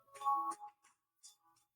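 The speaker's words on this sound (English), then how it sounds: "Sorry, my phone's ringing." A mobile phone rings during a live webinar Q&A on fixing credit: a short burst of bright electronic ringtone tones, fairly close, followed by fainter repeated chimes with quiet gaps between them.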